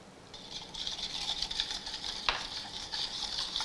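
A spoon stirs thick yogurt mixed with salt, garlic paste and ginger paste for a soya chaap masala, giving a steady close wet scraping hiss with one sharp knock against the bowl partway through.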